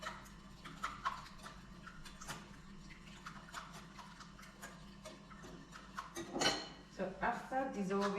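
Egg yolk being whisked in a bowl for a torta sette vasetti cake batter, giving rapid light clinks and ticks of utensil against the bowl in a steady irregular rhythm, with louder clatter near the end.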